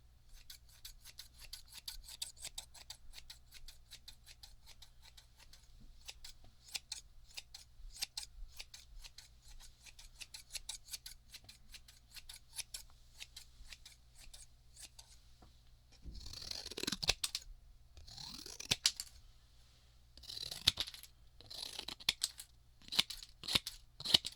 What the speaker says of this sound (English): people love scissors. Oh, let's grab one of my business cards.